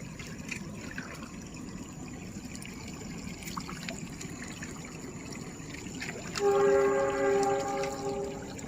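A train passes near rice fields in the morning, its steady harmonic tone rising clearly above a low trickle of water and outdoor background noise toward the end.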